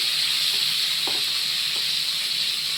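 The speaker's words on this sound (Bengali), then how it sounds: "এবার আমি এই আলুটাও ভেজে নেব।" Boiled potatoes frying in oil for biryani produce an even, constant sizzle up close, with two soft knocks of stirring partway through and no voices.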